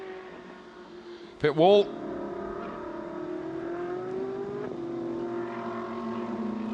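Claudio Schiavoni's number 102 Porsche race car finishing a Coppa Shell race at Jerez, its engine a steady, distant, rising drone under a commentator's voice.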